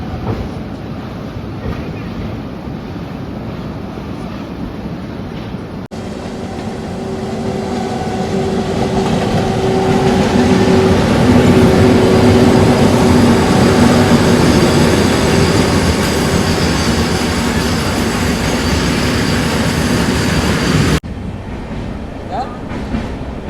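The Swarna Rekha Express rolls along with a loud, steady rumble and rattle heard from inside the train. It swells louder through the middle with faint wheel clatter and a brief squeal, then eases back.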